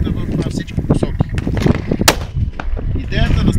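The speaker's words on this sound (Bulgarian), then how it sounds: "Идеята на сцената е да се пресъздаде стрелба с снайперова карабина по метална стрел, в случая метален гонг" Sniper rifle shots strike a metal gong target during a tactical training scene, giving sharp repeated cracks and metallic impacts, loud and close, with a hum of activity and other noise around them.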